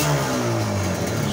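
Small engine revving steadily after its tank was drained and refilled with fresh fuel, a loud, close, continuous running note with shifting pitch and no talking.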